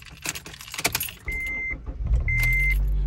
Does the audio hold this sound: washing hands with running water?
no